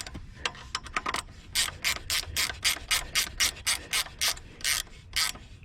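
Bolt spinning in place while being unscrewed from a lounge chair, a rapid series of close ratcheting, scraping turns with short gaps between strokes.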